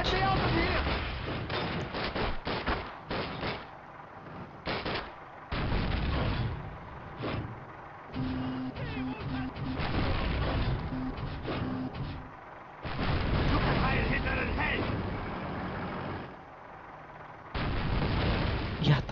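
Bombs and gunfire in Call of Duty come as repeated loud bursts and blasts in heavy clusters, broken by short gaps. Excited talk runs throughout.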